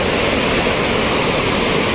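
Glacial river rushing near Turtuk village in Ladakh, a steady, dense roar of churning water filling the whole clip, close and loud with no pauses.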